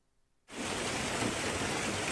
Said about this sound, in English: Golf ball-sized hail raining down in Ohio on Wednesday.